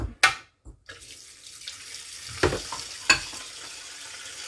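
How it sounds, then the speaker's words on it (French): Water from a tap runs and pours into a bowl in a kitchen, a close trickling splash with a few clinks and knocks of the bowl, fairly quiet with no talk. "je mets un peu d'eau dans le bol"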